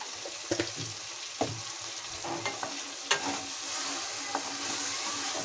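Spices with Kashmiri red chili powder fry in a pan with a steady close sizzle, broken by sharp scraping clicks as a spatula stirs them, while drumstick curry is cooked.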